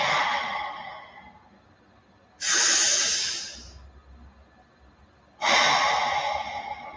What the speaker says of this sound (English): I'm breathing in and out through the mouth.